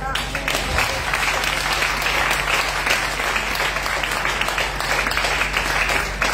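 A church congregation claps and cheers in praise of the Lord, a dense, continuous burst of applause with some voices mixed in that holds steady throughout.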